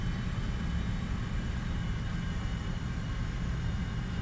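A steady, loud roar of an aircraft engine during takeoff from a runway in the War Thunder simulator, with a constant rumbling drone and no voices.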